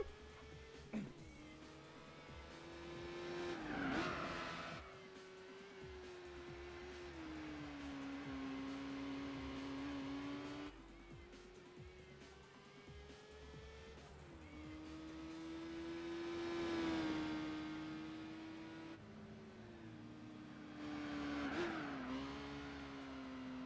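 Race car engines in Gran Turismo 4 on the Opera Paris circuit during a 1000 Miles race, including a Nissan Silvia, whining and revving through repeated gear shifts, loud and continuous.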